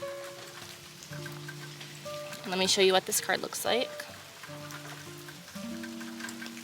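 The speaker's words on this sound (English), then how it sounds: "Listen to the rain, it's picking up." Steady rain falling outdoors, a constant soft patter under a person speaking in the middle, with sustained tones from soft background music also present.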